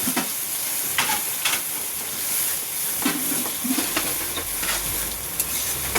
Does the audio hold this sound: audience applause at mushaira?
no